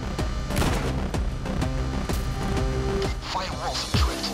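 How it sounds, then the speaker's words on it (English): Gunfire in Payday 2: rapid shots crackle in quick bursts alongside booming impacts and a musical game backdrop, loud and busy throughout, with a voice talking over the action. "Which motherfucker is shooting me over there?"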